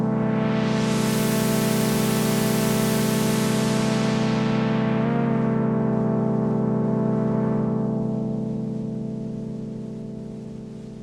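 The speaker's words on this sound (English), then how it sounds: "if I click the one that's labeled tape, then you get just a little kind of subtle bit of grain in the background" A tape noise layer from the Polygrade Tape Synth plugin, a steady hiss of grain over a sustained tonal drone that fades out toward the end.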